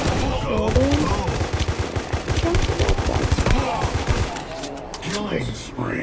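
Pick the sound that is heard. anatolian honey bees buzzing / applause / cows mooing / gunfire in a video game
gunfire in a video game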